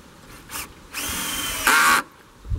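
A power drill drives screws into a wooden joist on a yurt platform, with a short burst followed by two longer whirring runs, the last higher-pitched and loudest, close by.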